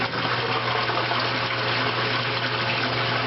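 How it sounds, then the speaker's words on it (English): Water drains down through a sand gravel filter after the pump is switched off, giving a steady, even rushing gurgle throughout with no voices. "you'll see the water going down in the sand gravel filter"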